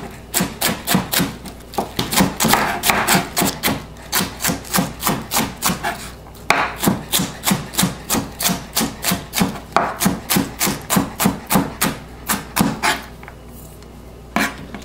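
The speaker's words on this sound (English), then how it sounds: "Then you're going to cut your cabbage as thin as you can" A knife chops cabbage as thin as possible on a cutting board for chicken adobo, giving a long run of rapid, evenly spaced, crisp strikes with one brief pause. The chopping is close and loud, and no one speaks.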